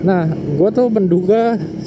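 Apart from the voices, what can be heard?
No everyday noises stand out.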